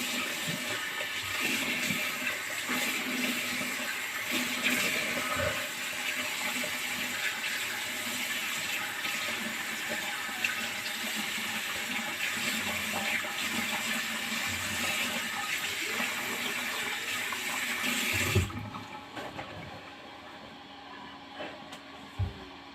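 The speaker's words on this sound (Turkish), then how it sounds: "Evet arkadaşlar yüzümüzü yıkadık. İyice duruladık." Running water splashes steadily as a face is washed and rinsed at a sink, a continuous close gush with small splashes that cuts off near the end, leaving a few quiet drips and handling sounds.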